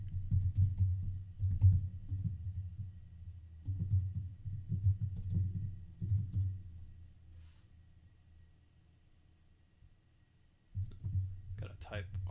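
Typing on a computer keyboard at a desk, a dense run of soft key clicks in bursts with a pause partway through, close and moderately loud.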